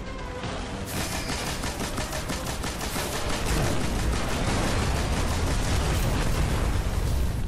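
Dense, continuous automatic gunfire and blasts in Destiny: The Taken King aboard the Dreadnaught, a loud unbroken barrage of shots and impacts with no talking.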